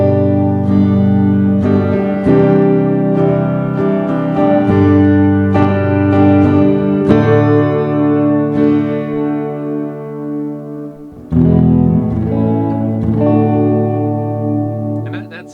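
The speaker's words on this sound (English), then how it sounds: "I'm just going to play a couple clean tones so you get a sense of what the stock pickups sound like" A Glarry GTL semi-hollow Tele-style electric guitar plays clean tones through its stock neck pickup: a series of ringing chords and single notes, full and sustained, with a brief break before a final strummed passage.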